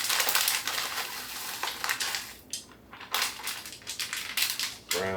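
Peppers and onion being stirred into cooked ground beef for a taco casserole, giving irregular scraping, clattering utensil-on-pan scrapes and knocks at close range, with no voices.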